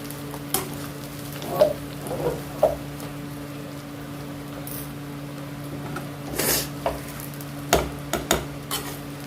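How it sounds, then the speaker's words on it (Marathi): Potatoes and onions are sautéed and stirred in a pan for aloo biryani: a soft, continuous sizzle broken by repeated scraping strokes of a spoon against the pan, with no one talking. "बटाटे घालूयात आणि परतून सगळं मिक्स करूयात"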